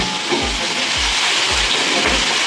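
Winter cauliflower stalks and radish sizzle with salt and turmeric in a pan, a steady frying hiss punctuated by four regular low thumps as the mixture is stirred.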